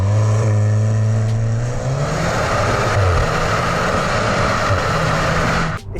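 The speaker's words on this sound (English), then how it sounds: "the car pulls really cleanly through the revs" A 2022 Cupra Leon 300 TSI hatchback accelerating hard, its engine note climbing steadily through the revs in a loud, continuous pull, with a brief gearchange dip around the middle and the sound cutting off at the end.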